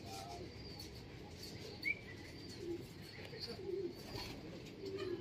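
Racing pigeons at a race toss in Pulilan, Bulacan, heard as faint coos and chirps over an outdoor background hum, with low murmuring voices nearby.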